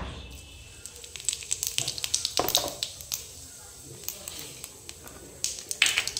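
Cumin seeds drop into hot oil in a kadai for a Bengali lote fish dish, giving sporadic crackles and sharp pops over a low sizzle.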